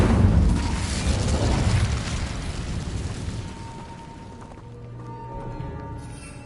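Incendio fire spell cast in Hogwarts Legacy, a loud roaring whoosh burst of flame that fades over a few seconds, leaving a faint tonal hum and small crackles.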